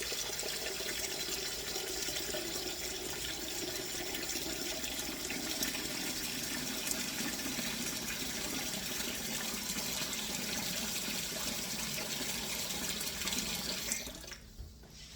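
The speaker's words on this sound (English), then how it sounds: "So put hot water into your bowl." Hot water runs from a tap into a bowl in a continuous, fairly quiet stream with a steady splashing hiss, stopping abruptly near the end.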